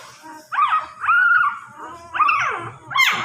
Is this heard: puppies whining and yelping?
yes